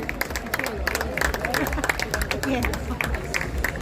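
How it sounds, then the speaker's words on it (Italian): Crowd at a boxing event in Piove di Sacco applauding and clapping steadily, with dense overlapping claps and a murmur of voices and chatter throughout. "Un grande applauso a Mario Nereo Sturla."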